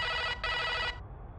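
An old telephone bell rings loudly and close in two rapid metallic trills separated by a short gap, then cuts out, in a soccer cartoon scene.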